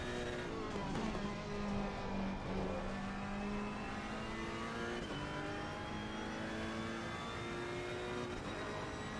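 Ferrari race car in a racing video game at Snetterton, its engine droning steadily and loud with rising and falling revs through gear changes, close and continuous for the whole stretch.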